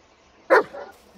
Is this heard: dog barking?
yes